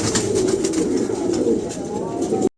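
Pigeons coo steadily at close range in soft, repeated throaty calls that carry on without pause for a couple of seconds, then cut off abruptly.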